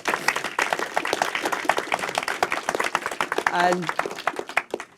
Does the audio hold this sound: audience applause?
yes